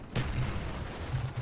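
Spectre submachine gun in Black Ops 1 firing in a rapid, sustained burst, loud and close, with dense crackling shots running through the whole stretch after a brief quiet start.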